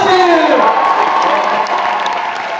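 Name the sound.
audience applause and cheering as speaker is called onstage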